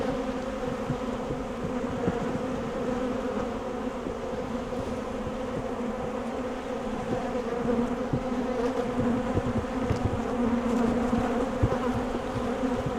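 A dense, steady swarm of honey bees drones around an open hive frame of brood and emerging brood, with close individual buzzes passing over the continuous hum and no voices.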